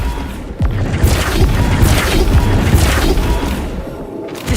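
A spell impact in the video game Hogwarts Legacy lands as a loud, heavy boom, with crashing thuds and a sustained rumble across several seconds.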